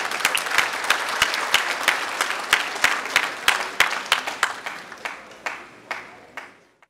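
An audience at the 2017 ISNAC graduation ceremony for the Émeraude class bursts into applause, with many hands clapping and sharp individual claps standing out, before the clapping thins and fades away at the end.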